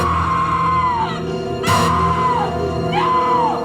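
A woman screams in a holiday horror film scene. Long, loud, sustained wailing screams rise and fall, broken by a brief sharp noise burst midway.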